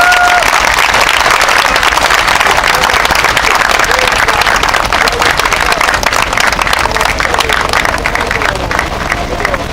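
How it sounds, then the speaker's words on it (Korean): A large crowd at a protest rally over the Sewol ferry special law claps vigorously and loudly for about ten seconds, with some cheering and crowd murmur mixed into the sustained applause. "다시 한번 힘찬 박수 부탁드립니다."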